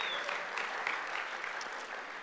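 Brief scattered clapping from a small church congregation, a few people applauding at moderate volume for a couple of seconds.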